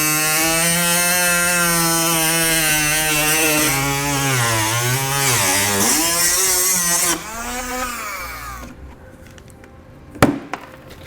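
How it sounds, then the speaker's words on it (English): A rotary tool cuts plastic bumper trim on a 2017 vehicle with a loud, high buzzing whine that wavers in pitch as it bites, then stops abruptly, followed by near silence and a single knock. "I'm going to be using a rotary tool."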